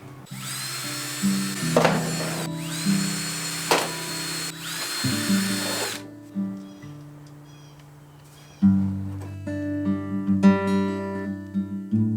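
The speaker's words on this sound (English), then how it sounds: "I'm going to drill holes in all of the pieces where they connect" A power drill whirs in short, repeated bursts as it bores holes in the pieces of a rain barrel water-tower frame, its motor revving up and down close by, with quieter handling noises between runs.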